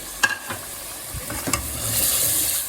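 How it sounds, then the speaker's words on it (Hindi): Tinda frying with chicken and ground onion in a pan, a steady sizzle under a few sharp spoon clinks and scrapes, with the hiss swelling louder toward the end. "अब मैं इसको अच्छा सा भूनूंगी"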